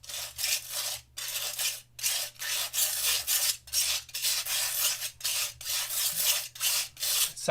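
African earth green pigment is mulled with binder, giving a steady rhythmic gritty rubbing and rasping, repeated strokes with brief pauses, close and fairly quiet with no talking.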